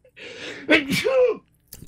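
A single close sneeze with a sharp breathy burst, preceded by a brief voiced intake and followed by a short pause and a faint click, amid a Minecraft gaming session.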